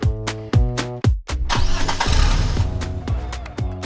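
A human voice imitates a 2024 Cadillac CT4 engine starting: a few sharp cranking bursts, then a sustained rumbling idle with rising revs, close and loud, with no other talk.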